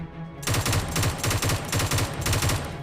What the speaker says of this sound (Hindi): अब एक प्री फायर आप यहाँ पर देखने वाले हो